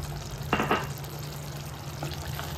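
Mutton curry with tamarind leaves and coriander powder is stirred in an oily pan, with a couple of soft scraping strokes and a gentle sizzle over a low steady hum, close and quiet.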